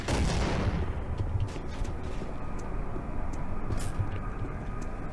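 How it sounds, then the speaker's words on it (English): Grenade blast in Doom 3, a loud burst at the start that decays into a rumbling, crackling tail, with sharp gunfire-like clicks scattered after it. "I'm going to use this grenade to take out the Z-Sack zombie with the pistol."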